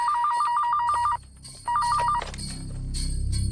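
A mobile phone ringtone rings in two bursts of bright, warbling electronic tone, the second shorter after a brief pause, followed by rising background ambience.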